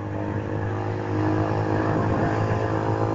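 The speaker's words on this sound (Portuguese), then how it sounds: "fazer esse vídeo aí pra vocês verem o barulho do escapamento aí com a moto em movimento" Yamaha Fazer 150 motorcycle with a sport exhaust, recorded while riding on an open training ground: a steady, loud engine drone with a broad low rumble that swells slightly partway through, with no talk.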